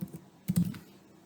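A few quick keystrokes on a computer keyboard as a client code is typed in, close and fairly quiet, with a short burst of clicks after a brief pause.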